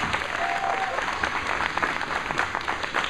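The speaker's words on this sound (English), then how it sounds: "why don't y'all give him a round of applause right quick" Steady, dense applause from an audience in a room at a Walk for Education gathering, continuous and fairly loud throughout with no pauses.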